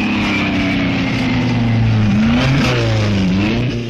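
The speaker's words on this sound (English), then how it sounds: "That is until a sports car race at Le Mans." Sports car engines roar and rev at the Le Mans 24-hour endurance race, loud and close, with pitch sweeping up and down as cars accelerate and pass, a continuous engine drone filling the whole stretch.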